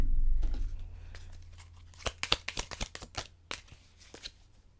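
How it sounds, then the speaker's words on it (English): A deck of tarot cards being shuffled by hand, a rapid run of crisp riffling flicks close up, followed by a few softer card slides as one card is pulled, with no talking. "They're telling me to pull this card."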